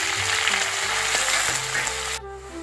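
Green chillies frying in hot oil in a pan, a loud, steady sizzle and crackle that cuts off abruptly near the end, leaving a quieter background hum.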